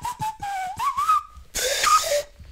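A sharp, piercing mouth whistle imitating a laser, bending up and down in pitch in a few quick bursts, close and fairly loud with no talking.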